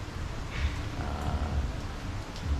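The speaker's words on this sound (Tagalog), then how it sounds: "pabugso-bugso" Steady light, intermittent rain from a typhoon falling in San Fernando, Pampanga, a soft continuous patter with low rumble underneath, no voices.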